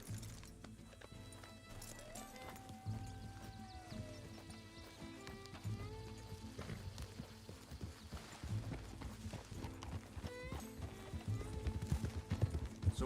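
Horse hooves clip-clop in a steady gallop with an occasional whinny, layered over game music and effects in Red Dead Redemption II.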